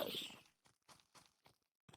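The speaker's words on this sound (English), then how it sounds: "those sounds I'm hearing, those footsteps, are this just these guys?" Footsteps in Minecraft: a few soft, evenly spaced crunchy steps, faint and somewhat distant, following a brief louder burst at the start, with no talking.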